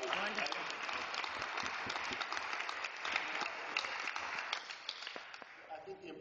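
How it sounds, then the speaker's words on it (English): Sustained audience applause at an investing conference, a dense wash of many hands clapping fairly close and steady for the whole stretch, easing slightly near the end. "give her a round of applause"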